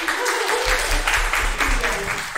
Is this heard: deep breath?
no